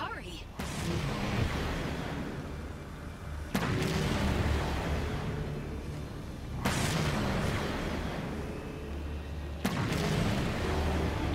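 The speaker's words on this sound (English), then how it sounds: "I'm gonna just keep shooting" Halo 5 gunfire booms out in a handful of heavy, loud blasts spaced a few seconds apart, each trailing into a dense rumble of battle noise, with a voice talking underneath throughout.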